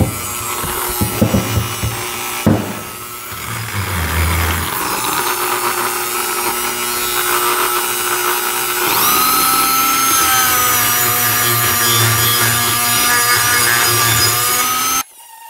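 Abrasive scuffing of an EZGO golf cart's rear brake drum before new pads go on, a steady rough grinding rub running almost the whole time with a brief pause early on, loud and close, no talk.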